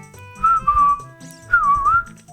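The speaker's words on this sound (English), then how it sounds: "if I whistle the song?" A person whistles a melody in two clear phrases, each a sustained, wavering tone, close and fairly loud, with quiet game music underneath.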